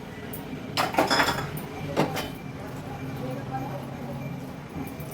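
A spoon scrapes coarsely ground dal for a raw totapuri mango ambe dal out of a metal mixer jar into a bowl. A few close metallic clinks and scrapes cluster around the first second, then one more follows, with quiet between.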